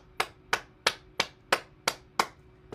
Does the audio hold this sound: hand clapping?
yes